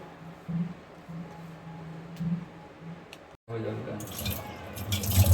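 Sour mango pieces and chicken rinsed under a running kitchen tap; the water gushes in partway through as a bright rushing splash, with a person talking throughout.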